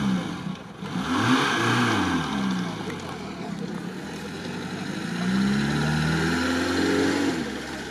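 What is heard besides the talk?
Lada Niva engine revving while driving through deep sand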